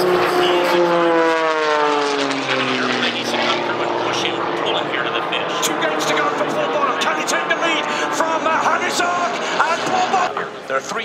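A race airplane's propeller engine roars past during an air race in Budapest, with a rising, then shifting pitch, loud and close, its buzzing drone sustained throughout.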